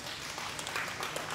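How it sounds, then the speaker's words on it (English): An audience claps at a Yamaha Tmax 560 unveiling event, a continuous wash of many hands applauding at moderate distance, steady throughout with no voices clearly standing out. "How about a round of applause, ladies and gentlemen?"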